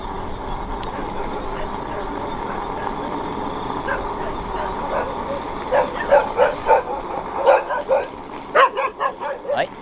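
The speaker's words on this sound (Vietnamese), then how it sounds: "Đấy, chó sủa." Dogs bark at night along a dirt road in Củ Chi, a string of rhythmic barks at mid distance that grow louder and quicker toward the end, over a steady background hum while a person talks.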